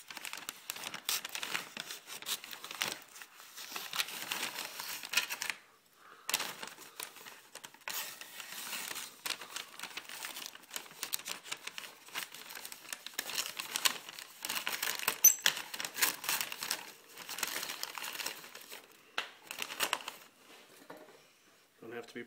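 Masking paper is crinkled, torn and cut while being fitted over the body of a Dodge Ram pickup truck, producing continuous close rustling and crackling with brief pauses throughout.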